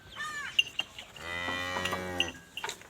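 A buffalo at a livestock sale gives a long, close, loud moo lasting about a second, preceded by a short lowing call, with faint background clatter and no talk.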